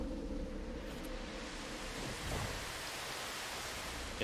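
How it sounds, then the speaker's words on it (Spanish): Steady rain falls on a planet in the video game No Man's Sky, a dense, even hiss of drops that holds at a constant level throughout with no voices. "Este planeta lo único que hace es llover."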